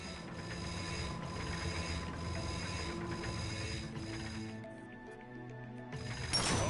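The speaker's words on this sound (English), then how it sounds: "Get on that bolt crank. Come on, give it a spin." Bolt crank turned in a video game, a steady mechanical ratcheting and grinding with clicking gear textures, continuous and moderately quiet, briefly dropping off near the end.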